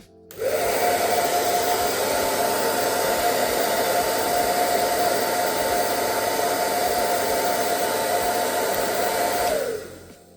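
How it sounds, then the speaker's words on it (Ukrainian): A hair dryer runs on a portable power station's output on its cold setting, switching on and blowing with a steady, loud whirring roar for several seconds before cutting off. "Давайте спробуємо, чи вийде запустити такий фен."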